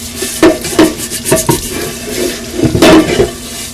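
A kitchen sink tap runs loudly and steadily while a cast iron pan is scrubbed and scraped beneath it, with clanks and splashes rising over the water.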